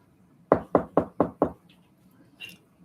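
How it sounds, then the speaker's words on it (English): Five firm, steady raps on a door sound up close in a quiet room, followed by a faint small noise afterward. "Somebody's knocking on the door, right?"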